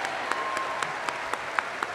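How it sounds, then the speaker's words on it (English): A high school graduation crowd gives the school band a round of applause in a brief burst of steady clapping over room noise, with a few sharper claps standing out. "let's give our Bronco band a big round of applause"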